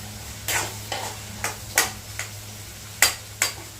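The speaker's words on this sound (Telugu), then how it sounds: "మధ్యలో వీటిని ఫ్రై కలుపుతూ ఉండాలి." A spoon stirs frying curry in an oil pan with seven sharp scraping clanks at uneven intervals over a low, steady background hum.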